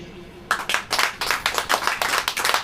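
Rhythmic hand clapping at a church sermon starts after a short pause, many sharp claps in a steady beat from a group, close and lively.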